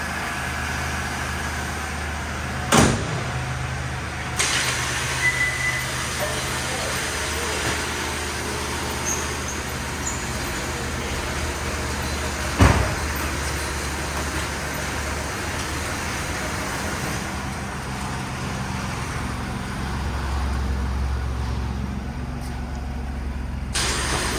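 A 1990 Buick Reatta convertible with only 391 original miles pulls away for a drive, its steady engine and road rumble continuing throughout, with two brief clunks partway through and nobody talking.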